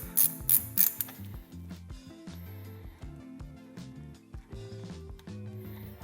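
A wrench works the float needle seat out of a Honda CB175 Keihin carburetor, giving a few sharp metallic clicks followed by quiet, repeated ratcheting and small mechanical turning sounds up close.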